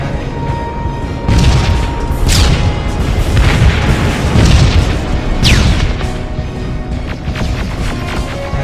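Incoming rockets in the video game Terminator: Dark Fate strike in a series of loud, rumbling explosions, heavy booms rolling into one another with crashing debris over several seconds.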